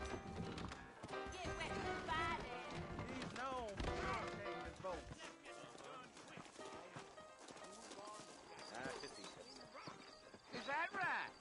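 Horses clip-clop at a steady walk in the Western game Red Dead Redemption, with a whinny and voices talking over loud music throughout.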